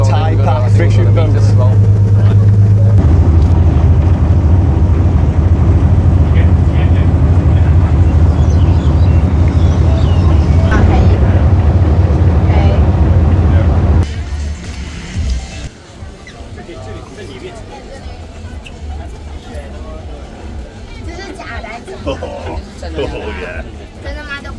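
A fishing boat's engine drones loud and steady with water noise, then drops to a quieter rumble, under continual talking and background chatter.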